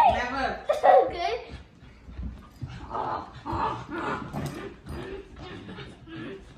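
A dog plays tug of war with a person, growling and grunting in short bursts while a voice talks and giggles over the struggle, close and lively.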